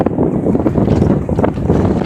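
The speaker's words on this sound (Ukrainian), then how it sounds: "вітер сильний" Strong wind buffets the microphone in a steady, roaring rush with no break, loud and close throughout.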